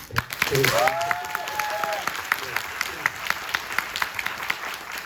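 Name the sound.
audience applause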